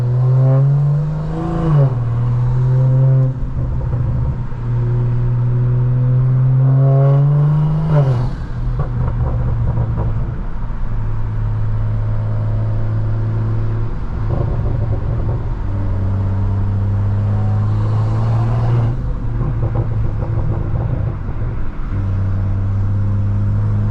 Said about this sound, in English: it's just straight exhaust sounds, so you guys could just hear how refined the motor sounds